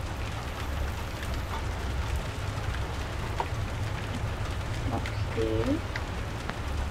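Steady rain falls in the horror video game Damned Hours, a constant hiss that starts as the player nears a window, heard under a quiet voice.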